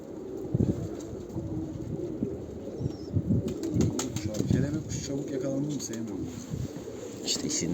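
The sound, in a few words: pigeons flapping their wings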